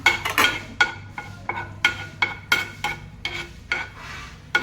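Chopped green chillies are stirred in a pan with a spoon, making a string of sharp scraping and clattering strokes in an uneven rhythm, close and clear, with no talk.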